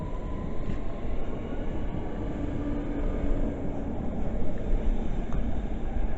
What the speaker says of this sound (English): It's our train now.